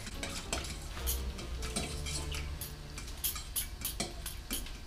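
A fork whisks in a bowl in an amateur home kitchen while chicken is prepared, giving rapid, irregular clinks and scraping taps that stay close and fairly loud against a faint background.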